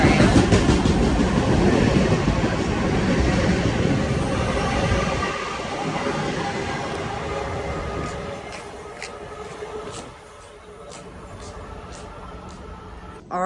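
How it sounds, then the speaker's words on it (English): Train approaching and passing at Mineola station, a loud rumbling rush with rhythmic clicking of wheels that fades after several seconds, leaving a quieter tail with sharp ticking clicks near the end. "here comes the last train I'm catching"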